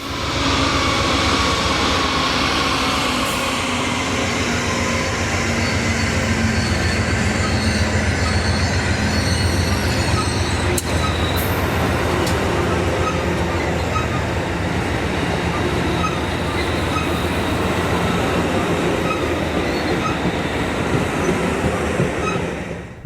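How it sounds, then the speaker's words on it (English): A Coaster commuter train with two locomotives rumbles past close by at Del Mar for a long stretch, steady heavy rolling noise with rhythmic wheel clatter and a brief squeal midway. "The coaster set with 2 locomotives makes one more appearance on train 665"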